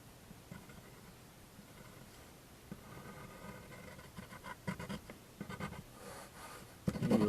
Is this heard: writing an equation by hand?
yes